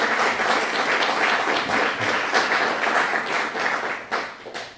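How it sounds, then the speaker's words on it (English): An audience at a New York craft brewing bill signing with Governor Cuomo applauds Assemblyman Anthony Brindisi, steady sustained clapping filling the whole stretch without talk. "Let's give him a round of applause for his good work"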